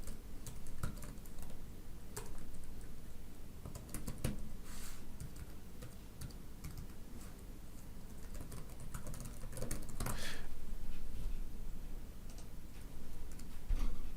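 Someone types a URL on a computer keyboard, producing a steady, close patter of quick key clicks that continues for over ten seconds without any talk.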